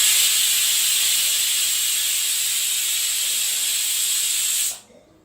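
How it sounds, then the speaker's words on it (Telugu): A pressure cooker on a medium-flame stove, cooking mutton for leafy mutton curry, releases a loud, continuous, high hissing jet of steam for about four and a half seconds before cutting off abruptly. "కుక్కర్ని ఒక 3 నుంచి 5 విజిల్లు వచ్చే వరకు ఉంచండి."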